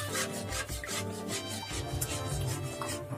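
Ladle scrapes and rubs continuously through thick mango burfi mixture in a pan over medium heat after milk is added, a steady close gritty stirring with no talk.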